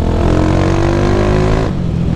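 A Honda 150 Sport motorcycle fitted with a 280cc engine drones steadily while being ridden, its engine note loud and close, then easing slightly near the end as the throttle changes.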